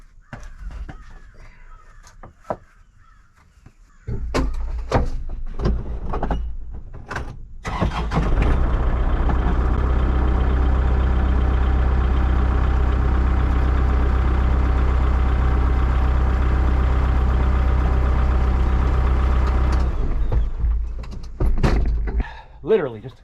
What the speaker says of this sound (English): Let me pull the tractor up just a couple inches here